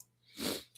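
A single sneeze bursts out in a quiet room during a live online gathering, one short breathy explosion that rises and fades within a second.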